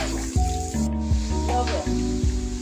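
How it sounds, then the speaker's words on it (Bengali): Chopped onion and garlic fry in a pan with a steady, close hiss, while a stepped tonal sound runs over the sizzle throughout. "এখন পেঁয়াজ রসুন একটু ভেজে নেব।"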